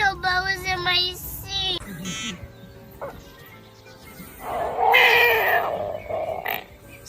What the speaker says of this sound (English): Some fish can actually make sounds by vibrating muscles near their swim bladder, which is why this catfish almost sounds like a cat.